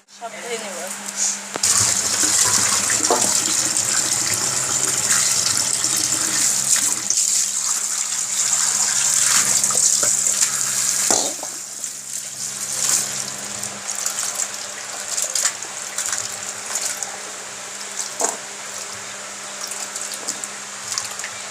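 Fish being washed under running tap water produce a steady gushing splash with sloshing and handling noises, while voices talk intermittently in the background.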